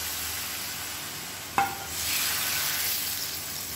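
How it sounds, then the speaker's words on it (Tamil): A sharp clank as tempering with onion and asafoetida hits moong dal and brinjal sambar, followed by a swelling close sizzle that holds steady to the end. "இப்போ இந்த தாளித்ததை நம்ம இந்த சாம்பாரில் கொட்டிடலாம்."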